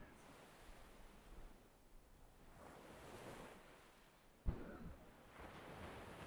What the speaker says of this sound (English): So, ocean.